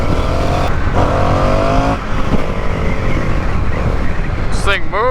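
A 2023 Indian FTR R Carbon motorcycle engine revs hard and loud under acceleration, a dense continuous roar shifting pitch as it pulls, with a brief whine of rising tones near the end.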